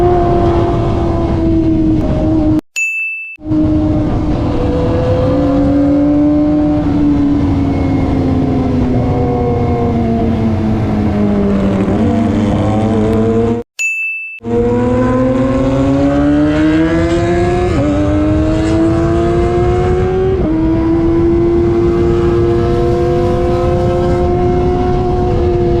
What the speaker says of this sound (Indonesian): Ini dua motor aja bikin berisik banget ini guys.